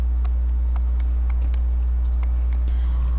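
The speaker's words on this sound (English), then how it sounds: "And that horse right there is named Aggro." A horse walks with steady clip-clopping hooves in the video game Shadow of the Colossus, a regular run of light hoofbeats over a constant low rumble.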